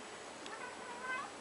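A small cat gives a faint, thin meow over a steady hiss of indoor background noise, brief and distant-sounding.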